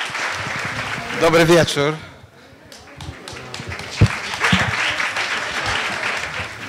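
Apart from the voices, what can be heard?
audience applause welcoming an architect at lecture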